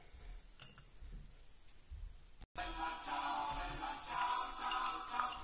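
Fake sugar for polymer clay is scraped and mixed in a small dish, producing light clinking and scratching taps that turn louder and busier after a brief gap.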